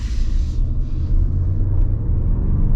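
A 2026 Toyota Grand Highlander Platinum Hybrid Max driving under acceleration, heard from inside as a steady, loud low rumble of engine and road noise with no talking.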